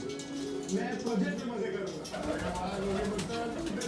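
Pigeons coo softly and repeatedly close by, under someone talking steadily.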